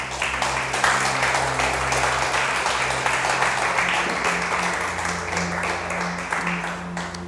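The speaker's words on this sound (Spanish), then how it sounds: "Dale ese aplauso a Jesús" A church congregation applauds in a steady, sustained wash of clapping that holds throughout, with a low musical hum or organ tone underneath and no clear words.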